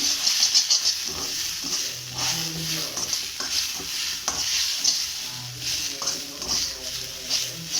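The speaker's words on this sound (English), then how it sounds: "Turmeric powder. Coriander powder. So I'm going to mix it well." A spoon stirring turmeric and coriander powder in a hot pan, rhythmic scraping strokes over a light steady sizzle, close and fairly loud, with no voice.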